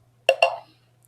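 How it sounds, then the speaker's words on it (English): Two quick, bright woody clicks from the lowest tempo block in a browser-based Chrome Music Lab rhythm tool, close and clean, followed by a brief ring-out and then silence. "The tempo blocks sound like this for the lowest one."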